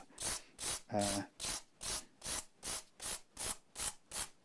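Guitar frets on a Harley Benton Fusion III being rubbed lightly to level out scratches, about ten even back-and-forth scraping strokes in a steady rhythm, close and quiet.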